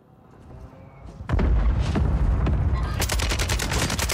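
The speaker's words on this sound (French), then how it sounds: "Frappe de mortier là." Mortar strike explosions from the video game Warzone 3: a loud blast erupts after a quiet moment, then sustained rumbling booms and a rapid crackling burst of impacts and gunfire close by.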